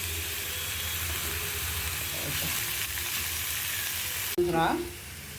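Onion and garlic frying in a pan, a steady close sizzle throughout, ending in a sharp clatter and louder crackle as something hits the hot oil.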